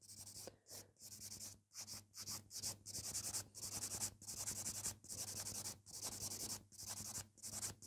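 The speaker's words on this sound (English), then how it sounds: "So I'm just buffing this tip." A nail tip is buffed during a manicure, giving steady rhythmic rubbing strokes close up with short pauses between passes and no talking.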